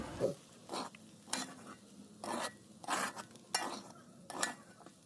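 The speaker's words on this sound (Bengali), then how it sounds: "পাস্তাটাকে আমি আরও মিনিট পাঁচেকের মতো ধরে নাড়াচাড়া করে নেব" Egg pasta stirred in a pan: a run of scraping utensil strokes against the metal, about six distinct swipes in steady rhythm, close and moderately loud over a faint sizzling background, no talking.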